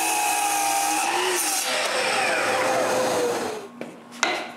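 A saw cuts a piece of cherry wood to length in a woodworking shop. The cut is loud, close and continuous, with a harsh rasping tone that fades slightly near the end.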